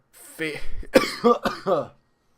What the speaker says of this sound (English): why do I still have this cough?